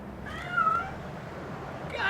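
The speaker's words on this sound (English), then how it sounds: "Goddamn cats, shut up!" Cats meowing in a film scene, a drawn-out wavering meow followed by another cry near the end, fairly close, with a voice heard around them.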